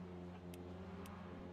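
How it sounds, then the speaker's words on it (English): Porsche GT3 race car in the rFactor 2 racing sim, its engine holding a steady, harmonic drone at sustained revs, with two brief high-pitched ticks over the continuous note. "That Porsche sounds amazing."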